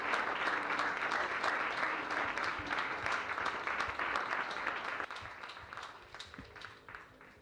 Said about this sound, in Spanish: Le damos un aplauso a nuestro Señor